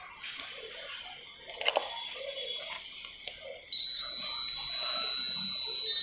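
A continuity tester's buzzer sounds with a steady, piercing electronic tone once the two test wires touch, starting abruptly midway and holding continuously to the end after a few faint clicks.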